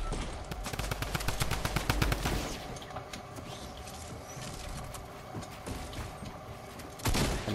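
A drum gun fires in Fortnite, a rapid rattling burst of many shots for about two seconds, followed by quieter game ambience and a short loud burst near the end.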